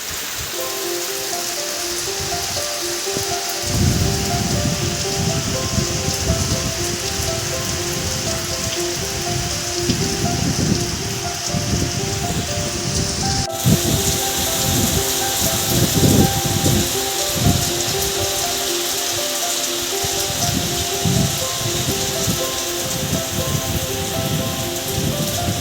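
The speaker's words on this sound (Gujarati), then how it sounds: "વરસાદ ચાલુ થઈ ગયો છે ફૂલ અત્યારે" Heavy rain pouring steadily on a rural setting near a village temple, a loud, dense, continuous patter on surfaces that holds without pause throughout.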